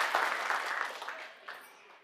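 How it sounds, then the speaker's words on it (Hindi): A short burst of clapping from attendees at a Bihar Vikas Parishad community meeting in Surat starts strong and fades within about two seconds, with a small second swell near the end. "जोरदार तालियां होना चाहिए इस भविष्य के लिए।"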